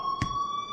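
Steady electronic school alarm tone from the Life Is Strange video game, a continuous high-pitched ring held throughout the short clip, with a brief low thump partway through.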